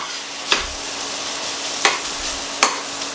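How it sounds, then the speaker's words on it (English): Mushrooms sauté in a pan under a steady, even sizzle, with three distinct, close stirring scrapes spaced about a second apart. "now just give that a good stir"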